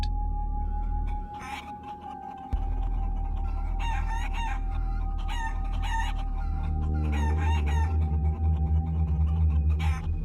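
Chickens on a farm at night, a rooster crowing repeatedly over loud clucking and squawking from the flock, close and continuous over a low steady background hum.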